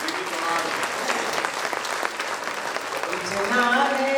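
Audience applause at a Hindi poetry recital: a dense, steady wash of many hands clapping, moderately loud and sustained throughout, with faint voices mixed in.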